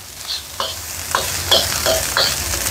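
Nasi goreng fried rice being stirred in a hot wok, a steady sizzle broken by about five sharp scraping strokes of the spatula at an irregular rhythm, close by with no talking.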